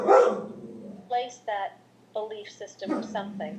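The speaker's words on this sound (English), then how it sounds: "He's sitting on the couch just barking at someone who just walked by." A dog sits on a couch at home barking at someone passing by, a few short sharp barks in bursts, with someone talking over and between them.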